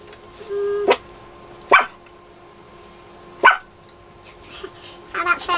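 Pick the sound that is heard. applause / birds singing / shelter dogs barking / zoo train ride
shelter dogs barking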